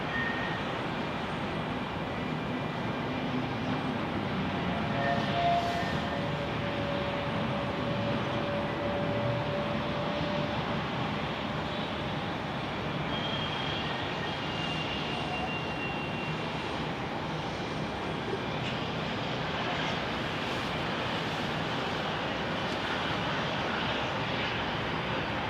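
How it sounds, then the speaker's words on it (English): A Delta Boeing 737-900 airliner waiting on runway 16 left at Salt Lake City, its jet engines giving a steady, distant, even roar throughout. "We've got Delta 918 down at runway 16 left, about to take off on a 737-900."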